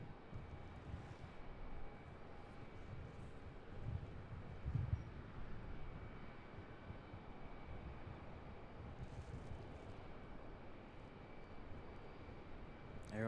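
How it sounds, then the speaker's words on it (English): A Delta airliner touching down at Charlotte airport, a faint, distant, steady jet roar with wind rumble, continuous throughout with a brief louder thump midway. "Got the Delta touching down over there."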